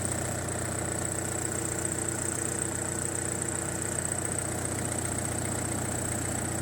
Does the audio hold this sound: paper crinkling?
no